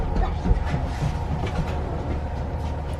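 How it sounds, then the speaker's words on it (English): At a train station in Thailand, a train rumbles steadily nearby with rolling rail noise and faint clattering, a continuous low mechanical drone throughout with no speech. "Here's the train station."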